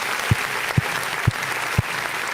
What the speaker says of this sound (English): I need to give him a round of applause.